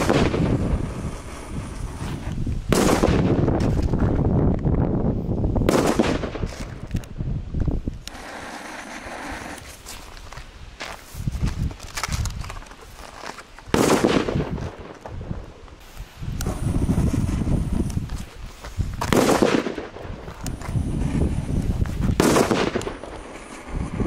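Firecrackers bought in Poland go off outdoors in a string of sharp, loud bangs, some single and some in rapid crackling bursts, separated by gusty wind noise on the microphone.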